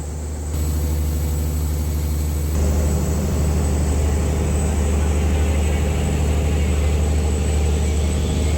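A purse-seine fishing boat's engine runs at sea, a loud steady low drone with a constant throbbing hum that gets a little heavier partway through. No voices are heard.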